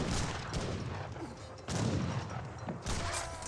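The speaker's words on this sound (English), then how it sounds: "Musketeers firing away." Musketeer volleys crack out in Age of Empires 3, with two or three sharp bursts of massed gunfire cutting through ongoing battle noise, fairly loud and close.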